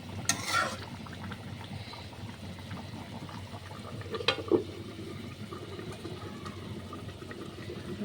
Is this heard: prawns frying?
yes